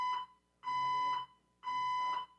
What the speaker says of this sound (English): That was the first time I've ever had a fire alarm go off